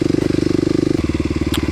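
Kawasaki KLX250SF dual-sport motorcycle engine revving up close, a steady throbbing pulse that shifts to a deeper, chunkier beat partway through.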